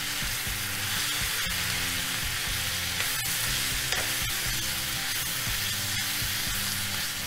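Spinach, coriander leaves and tomato masala fry and sizzle in a pan while being stirred, a constant close hiss broken by soft scraping spoon strokes, with no talking.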